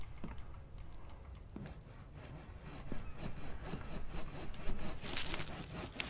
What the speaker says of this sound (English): the dev made those plank saws. I mean, just all automated, so I can just drop the log on there and it'll do everything on its own